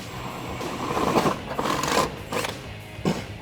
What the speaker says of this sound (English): We're going to use that 25/64 bit, install our rib nuts, and then we'll get this installed